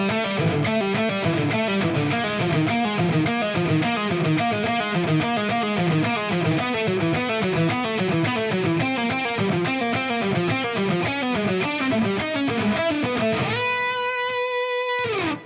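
A distorted electric guitar picks a fast repeating lick in a steady, even rhythm, then ends on a sustained ringing note.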